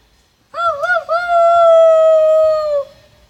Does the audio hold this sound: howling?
yes